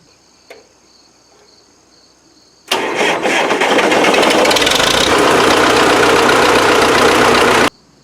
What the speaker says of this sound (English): we'll fire this one up real quick